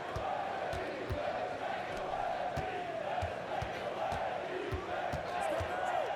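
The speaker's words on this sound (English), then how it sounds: "what is with these crowd sounds right now?" Game-engine arena crowd noise from NBA 2K24, a steady dull roar with swelling cheers and chants and occasional ball bounces and squeaks underneath, continuous and moderately distant with voices mixed in.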